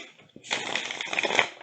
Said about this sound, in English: They seem to shuffle pretty nicely.